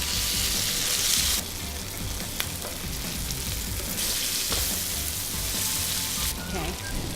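Shrimps fry in hot oil in a pan over medium heat for paella, a dense steady sizzle with crackling bursts that swell and ease, close and continuous.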